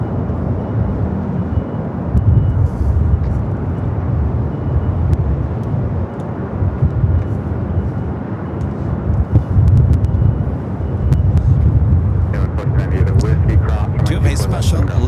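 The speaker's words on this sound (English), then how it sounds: "Star Alliance 737-800 coming in" A Star Alliance Boeing 737-800 arriving at Los Angeles International Airport. It makes a loud, continuous low jet rumble with wind buffeting that swells and eases over the span, and faint voices sit beneath it.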